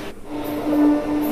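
A WAG 9 HC electric locomotive hauling a goods train passes Chebrolu station, a steady rumbling rail roar with a sustained tonal hum through the short stretch.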